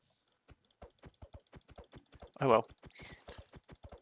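Rapid computer mouse and keyboard clicking during a Minecraft Skyblock session, a dense run of short, sharp clicks heard close up throughout, with a brief louder mechanical rattle midway and someone speaking briefly.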